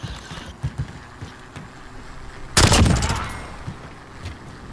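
Burst of gunfire from a PP-19 Bizon submachine gun in a shooter video game, one loud rapid volley of about a second rising over quieter game noise, with small scattered thumps before and after.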